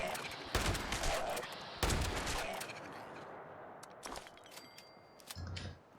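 Gunfire from the Fallout 76 video game as enemies are headshot, a rapid burst of sharp shots followed by scattered single cracks and a few softer pops, fairly close, ending with a short muffled rumble.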